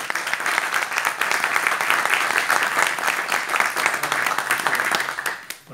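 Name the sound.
audience applause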